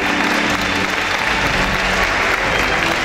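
Loud, dense applause from the audience at the Miss Oise 2020 pageant results as the third runner-up is named, a continuous roar of clapping filling the whole moment.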